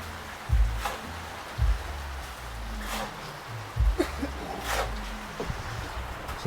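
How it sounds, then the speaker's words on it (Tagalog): Heavy rain falls steadily, giving a constant hiss with scattered drops hitting nearby surfaces. There are low thumps and faint voices in the background. "Ang lakas ng ulan."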